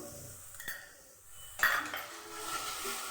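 A spoon clinks and scrapes against a pan while cumin-coriander powder goes in for a spine gourd, egg and potato curry, a few separate metallic taps over a faint background hiss, close and with no talk.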